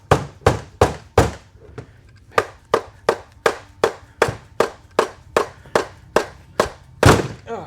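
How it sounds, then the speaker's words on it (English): A heavy hammer strikes a 4L60E four-wheel-drive transmission from a 2005 Chevy Tahoe during teardown: about sixteen sharp, loud metallic thunks in a steady rhythm, close and isolated, with a brief pause and a harder final blow. "I'm gonna grab my bigger hammer"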